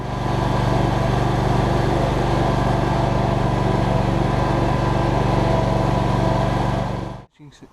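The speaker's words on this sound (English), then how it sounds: "Lawnmower's back there in the back" A lawn mower runs at a 100-year-old golf course, giving a steady, unbroken engine drone at moderate distance that holds level for about seven seconds, then cuts off abruptly.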